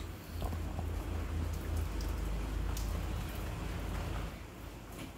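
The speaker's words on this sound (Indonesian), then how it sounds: "Udah gitu hujan deras, ini masih hujan." Heavy rain pours down in Bali as a dense, steady hiss of drops striking surfaces. A low rumble runs underneath and a few louder splashes stand out.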